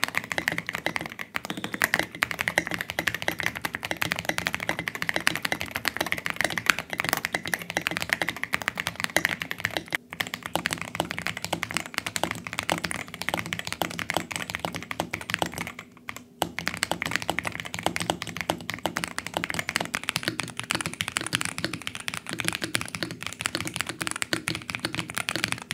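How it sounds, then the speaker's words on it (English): Rapid, continuous clacking of keys on an ROG Azoth mechanical keyboard, dense typing that runs throughout with only a couple of brief pauses, close and clear. "I'm gonna provide you some sound tests using different keycaps material"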